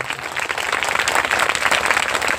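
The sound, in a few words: audience clapping in welcome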